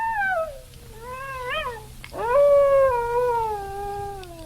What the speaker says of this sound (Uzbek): bilar ediki, bu ovoz bo'rini ovozidirki